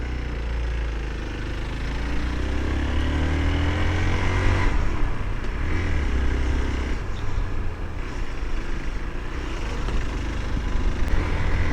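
A motorcycle climbing an uphill road toward Shivkhola in the hills, its engine droning steadily close by and rising slightly as it pulls up the incline, with wind noise and no talk.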